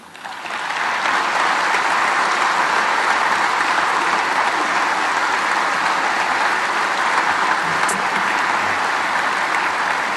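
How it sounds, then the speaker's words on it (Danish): A crowd at a Danish party political event, where candidates for municipal elections are being announced, breaks into sustained applause that stays loud and dense throughout. "Ja, store klapsalver her til den bemærkning."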